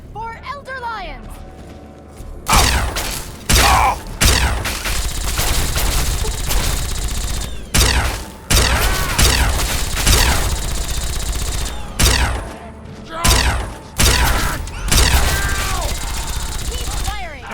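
A Fallout 3 battle with dense bursts of automatic gunfire, separate loud shots and crashing impacts that repeat with brief lulls, while voices shout over the fighting.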